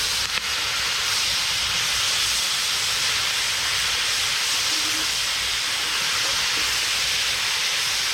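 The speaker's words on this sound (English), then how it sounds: "See how fast it's cooking down?" Spinach cooking down in a pan over an outdoor fire, a steady loud hissing sizzle that runs unbroken throughout, close and without talk.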